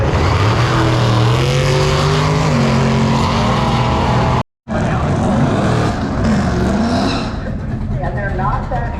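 A truck racing down a drag strip and trailing smoke, engine roaring loud and rising in pitch before a brief cutout, then a further run fading off, with a commentator talking throughout.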